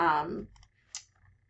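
A single crisp mouse click in Shop Boss repair-shop software, close and clear, just after a spoken phrase trails off into quiet room tone.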